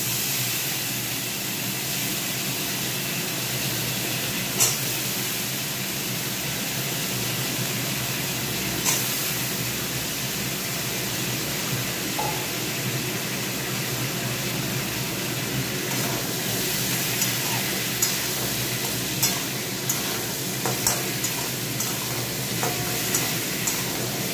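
Potatoes fry in oil in a pan, a steady close sizzle lasting throughout, with occasional light clinks and scrapes of stirring and no voices.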